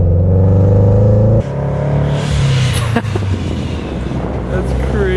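A supercharged manual car drives past with a loud, steady engine drone that breaks off abruptly as it shifts gears. Rougher engine and road noise follow, with heavy wind buffeting the microphone.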